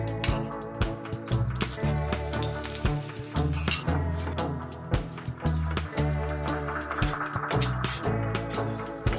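Radish paratha cooking in white oil on a tawa, with a continuous sizzle broken by repeated clinks and scrapes of a spatula against the pan.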